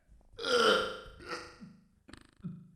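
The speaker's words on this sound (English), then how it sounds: "you try to burp, but then it doesn't come out right away, then you just retch into a live stream" Two or three close burps in a row, the first long and loud, followed by shorter, gurgling belches.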